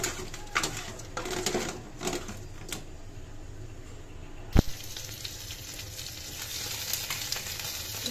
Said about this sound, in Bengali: মাছ হয়ে এলো, ভাজা দিচ্ছি মাত্র।